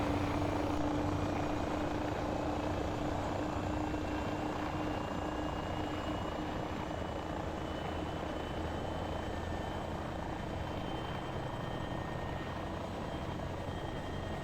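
A simulated helicopter engine in FlightGear spools up with a continuous loud whine and rotor drone, steady and unbroken from start to finish.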